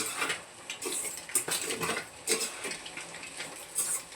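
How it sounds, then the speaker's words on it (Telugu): Vegetables and beans being stirred in a pan for noodles, with close metallic clinks and scrapes of a utensil at an uneven rhythm over a faint sizzle. "అన్ని వెజిటేబుల్స్ అయితే కొంచెం మిక్స్ చేసి బాగా కలుపుకుంటే బాగుంటుంది"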